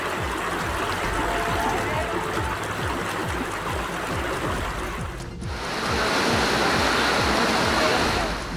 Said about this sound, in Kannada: ಹಳ್ಳ ಕೊಳ್ಳಗಳೆಲ್ಲ ತುಂಬಿ ಹರಿತಾ ಇದೆ